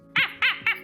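A person imitates a chihuahua's feral barking with three quick, sharp yaps in under a second, close and evenly spaced, each a squeaky bark.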